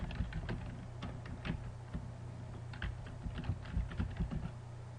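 Username and password typed on a computer keyboard: rapid, close key clicks in an uneven run over a low steady hum, with no talking.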